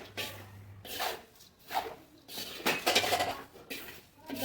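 Thin nylon poha being stirred in a pan for Gujarati papad poha, giving a few separate bursts of scraping and clinking from a spoon against metal, fairly quiet with short gaps in between.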